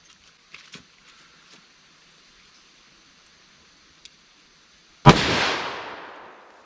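One loud, close gunshot from a .357 Magnum revolver firing a 180 grain load, with a sharp crack and a ringing decay, preceded by a few faint clicks and soft handling noises.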